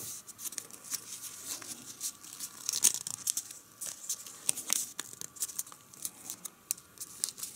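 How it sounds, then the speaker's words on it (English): Paper being folded and creased for an origami Easter bunny, quiet irregular crinkles and sharp creasing snaps scattered throughout, no speech. "you just want to fold this side right here to right there"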